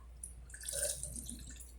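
Water trickles and drips into a litre of cooking oil for homemade green papaya soap, a soft, faint pouring with a brief swell in the middle over quiet background.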